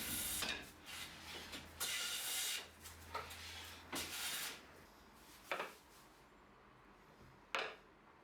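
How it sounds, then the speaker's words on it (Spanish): A small calibrated hand plane (garlopín) takes light shaving strokes along the face of a wooden board, giving a series of dry rasping swishes at an uneven pace, close and fairly quiet, with no talking. "Con un garlopín calibrado para sacar menos material, quito las marcas del anterior y termino de rectificar esta cara de la madera."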